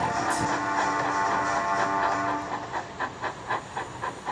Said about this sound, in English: And he puffed sadly away, leaving a very disappointed James behind.